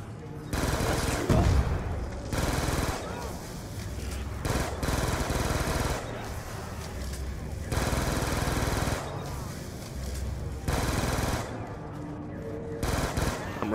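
Sustained bursts of automatic gunfire in Call of Duty's Mob of the Dead zombies map, loud rattling volleys broken by short pauses, with players talking over the shooting.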